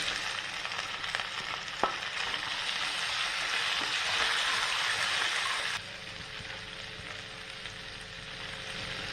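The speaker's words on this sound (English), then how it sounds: "I'll fry in low flame" Boiled potatoes with chili powder, a pinch of turmeric and salt fry over a low flame, giving a steady, dense sizzle that drops slightly quieter partway through and continues without talk.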